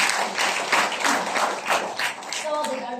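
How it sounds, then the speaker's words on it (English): Audience applause at a team sharing event, a steady round of clapping with raised voices and cheering mixed in, fairly close and full for about three seconds. "Can we give them a round of applause?"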